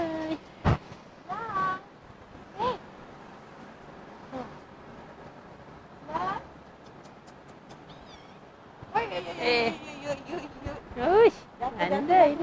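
A cat meows repeatedly, a few separate cries and then a busier run of meows toward the end, close by, with people talking to it in Malay around the calls.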